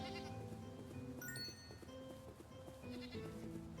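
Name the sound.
goat bleating in video game Synaxarion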